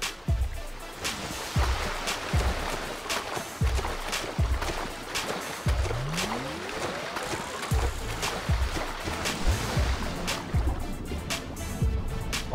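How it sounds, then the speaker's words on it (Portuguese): Water lapping and splashing in GTA 5, a steady wash of waves with repeated soft splashes and a few swooshing movements, moderately loud throughout with no voices. "Olha o barulho da água."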